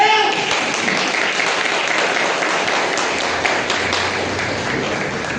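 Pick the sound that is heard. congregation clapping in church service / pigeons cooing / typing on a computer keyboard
congregation clapping in church service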